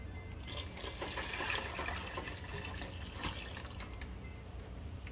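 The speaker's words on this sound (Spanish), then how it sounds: "vamos a llenar esta de agua también" A cooking pot fills with water from a tap for making meatballs, a steady splashing gush with small drips, constant and moderately quiet, with no talking.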